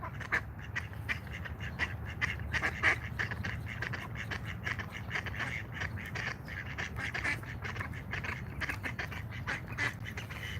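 Ducks quacking continuously at a protest, a dense, steady chorus of nasal calls heard up close with no talking.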